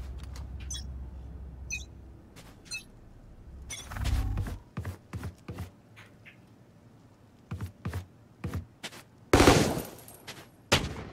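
The starting pistol in VALORANT fires scattered sharp single shots, with a few louder cracks standing out among softer clicks and pauses.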